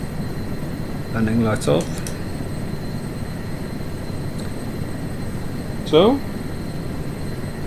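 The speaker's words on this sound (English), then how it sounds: "that's the Erickson Aircrane in Microsoft Flight Sim 24." An Erickson S-64F Aircrane heavy-lift helicopter in Microsoft Flight Simulator 2024 idles with a steady engine and rotor hum and a high whine, while a person speaks briefly twice over it.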